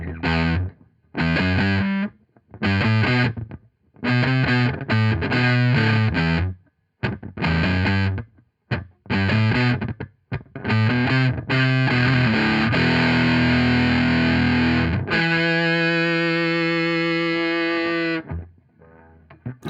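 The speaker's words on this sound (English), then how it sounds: "you can get a real kind of synthy sound as well if you switch over to your neck pickup" Electric guitar on the neck pickup through a TC Electronic Honey Pot fuzz pedal set for a heavy synth-like tone, choppy stabbed phrases giving way to long sustained buzzing notes, loud with no voices.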